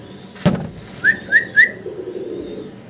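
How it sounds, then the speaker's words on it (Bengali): A pair of black Lahori pigeons coo with three clear, evenly spaced whistling notes after a single sharp thump, followed by softer low murmuring, close by. "দর্শক, ব্ল্যাক এক জোড়া লাহোরি কবুতর আপনারা দেখতে পারতেছেন।"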